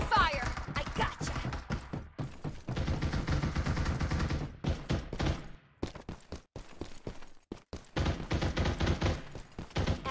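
Gunfire in the battle royale game Farlight 84 crackles in choppy, rapid bursts at close range, dense stretches of shots separated by brief pauses.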